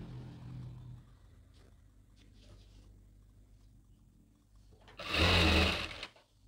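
A sewing machine stitches a half-inch seam on a cotton underskirt, a faint steady mechanical whir that builds into a loud close burst of rapid stitching near the end before stopping.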